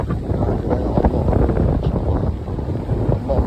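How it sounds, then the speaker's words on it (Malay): Strong sea waves churn under gusting wind on a rough coast at high tide, a continuous loud roar of surf and wind buffeting the microphone with no clear pauses. "Ombak kuat, angin kuat lah."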